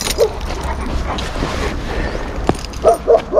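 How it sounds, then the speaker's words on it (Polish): A guard dog whines and gives high yipping barks at a passing train, with short bursts near the start and a cluster of yelps at the end over a constant low rumble and outdoor noise. "tak piszczy i szczeka jednocześnie, kiedy właśnie pociąg widzi"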